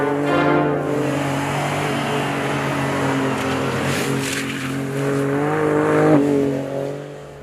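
A 450-horsepower car drifts in a video game, its engine droning at a steady high pitch while the revs rise and fall, with some squealing from the tires. The sound stays loud and close throughout, and no one speaks.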